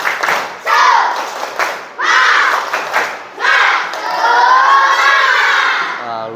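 Indonesian primary schoolchildren of class 4C shouting a chant together with bursts of voices and thumping claps in a classroom, loud group cries in three surges, the last one longest and sustained.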